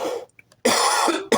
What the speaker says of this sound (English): I apologize to be coughing in your ears.